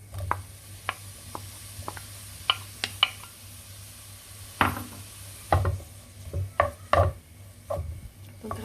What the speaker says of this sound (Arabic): غادي نشحرهم في هاد الزبده والثومه